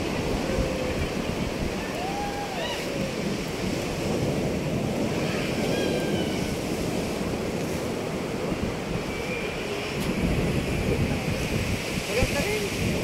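Ocean surf rolls steadily at a beach resort in Morong, Bataan, a loud continuous wash of waves with wind buffeting the microphone and faint voices now and then.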